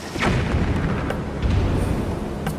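A bomb exploding in Zelda: Skyward Sword HD, a loud close boom followed by rumbling debris that lasts a couple of seconds.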